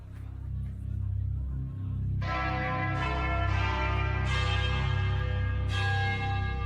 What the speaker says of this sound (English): Chimes are always nice.